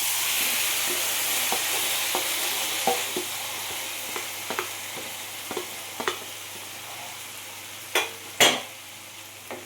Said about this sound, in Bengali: এবার আমি ভালো করে ভুনে নেব 5-6 মিনিটের মতো